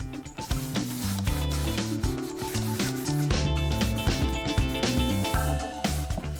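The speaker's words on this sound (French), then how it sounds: "Pour lustrer, on peut utiliser soit un chiffon, soit à la brosse" Cloth or brush buffing colourless patina wax onto a refurbished wooden medicine cabinet, a continuous close rubbing and brushing with quick back-and-forth strokes, steady and fairly loud.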